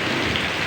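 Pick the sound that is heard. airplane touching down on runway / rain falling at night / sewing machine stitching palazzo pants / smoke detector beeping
rain falling at night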